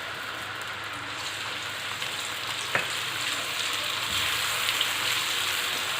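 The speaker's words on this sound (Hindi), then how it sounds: "अब इसमें मैं अदरक लहसुन का पेस्ट डाल रही हूँ।" Ginger garlic paste sizzles and fries in hot oil with softened onions for a dal mash dish, a steady close crackling hiss with a brief stir clatter partway through and no voices.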